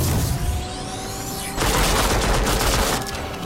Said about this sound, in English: More gunshots to the face.